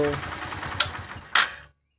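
A Passion X Pro motorcycle engine idles evenly after timing chain and tappet repair, a low steady rumble with a couple of sharp clicks before it cuts off and falls silent.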